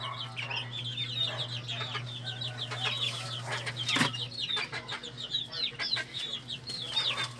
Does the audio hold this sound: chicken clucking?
yes